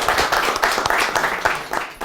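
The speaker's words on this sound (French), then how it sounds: "On va applaudir pour elle." An audience claps together at a business talk on persuasion, a close, dense patter of many hands lasting about two seconds with no voices over it.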